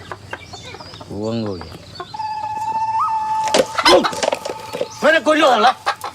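A hen kept for eggs clucks in a short rising and falling run close by, followed by people talking over a faint background.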